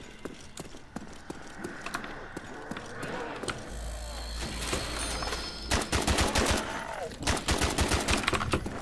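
Rapid gunfire bursts in a zombie shooter game, including shots from a weak 1911 pistol, cracking loudly in quick repeated volleys that grow denser toward the end.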